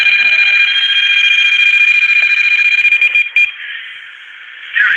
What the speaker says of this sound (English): Can you make it beep again, spirits?